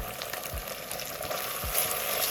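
Onions fry in a pan for a crab curry, giving a steady close sizzle with a few soft stirring scrapes, and no voice over it.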